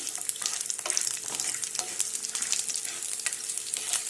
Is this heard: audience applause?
no